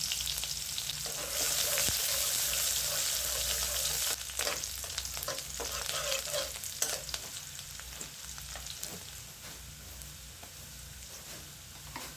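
Onions frying in oil in a pan while cooking a small fish curry with potato, tomato and raw mango, a steady close sizzle with faint stirring scrapes and no talk.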